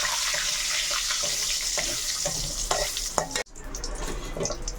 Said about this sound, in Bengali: তেজপাতা কয়েকটা, একটু পাঁচফোড়ন, নাড়াচাড়া করে নেব।